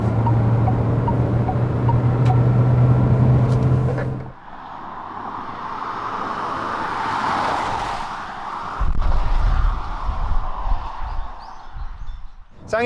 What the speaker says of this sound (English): Right now we're driving on the highway with new Korando and it feels pretty stable.